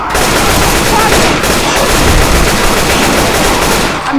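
Sustained automatic gunfire from the Left 4 Dead 2 video game in a swamp level, loud and dense, shots rattling continuously for several seconds with no pause.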